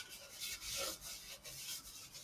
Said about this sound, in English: just give your rice cooker a good grease